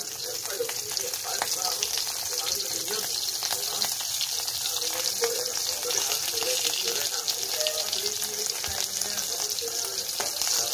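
Large dried salted fish (tuyo) fry in a pan over a cooking stove, giving a loud, dense, continuous sizzle and crackle that holds steady throughout.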